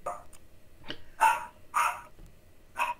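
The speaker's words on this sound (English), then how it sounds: "Get rid of the goddamn chihuahuas!" Chihuahuas in a studio giving a few sharp, high-pitched barks and yips spaced irregularly over three seconds, fairly close and without talk.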